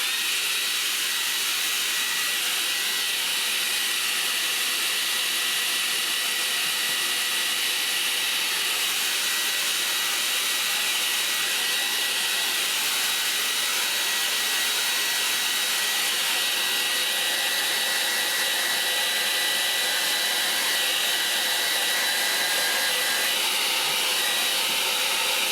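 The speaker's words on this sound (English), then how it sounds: "Used to be my wife's hairdryer" An old handheld hair dryer blows steadily on a watercolour painting of gulls, a loud, constant airy whoosh and whine held close to the microphone throughout with no talking.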